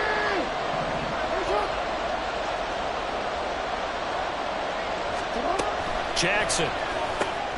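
Stadium crowd noise in a Madden football video game builds ahead of a big third down, a steady broad roar running throughout beneath a commentator's voice, with a few brighter cheering swells near the end.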